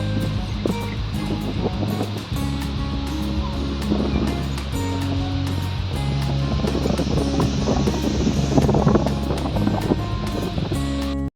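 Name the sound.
ocean waves at the beach, Boracay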